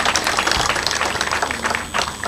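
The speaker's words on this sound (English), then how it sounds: "A big round of applause, please, once again, for our chief guest" An audience at a graduation ceremony of a medical training college in Kenya claps in a steady, moderately loud burst of applause that swells and thins over a couple of seconds.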